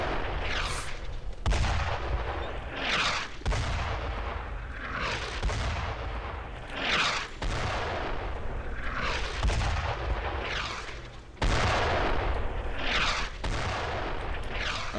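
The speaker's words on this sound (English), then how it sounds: "I feel like for one mortar, they sure are firing a fuckload." Heavy mortar and artillery barrage in the WWII shooter Brothers in Arms: Road to Hill 30, with repeated loud booming impacts every second or two over a continuous rumbling battlefield din.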